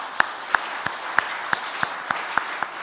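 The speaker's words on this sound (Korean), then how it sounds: "우리 박수 한번 칩시다." A church congregation claps at a Wednesday dawn worship service, sharp evenly spaced claps in a slow steady rhythm, loud and close, with no talk over it.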